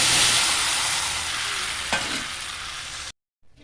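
Fried rohu fish roe stirred gently in a pan for a sour amra curry makes a bright, continuous sizzle with one clear utensil knock near the end before it cuts to silence.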